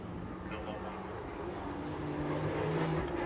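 Race cars pass on the Road Atlanta circuit during a World Racing League seven-hour endurance race, their engines a steady, distant drone under continuous commentary.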